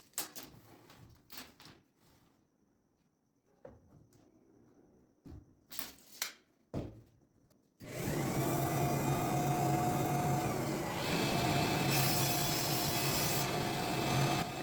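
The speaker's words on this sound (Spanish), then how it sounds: "empezamos a cortar todo el material en la sierra de mesa" A table saw cuts wood panels for a vertical kitchen pantry cabinet, entering as a loud, steady, dense whine-and-roar about halfway through. Before it come scattered wooden knocks and handling bumps.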